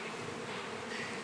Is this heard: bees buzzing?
yes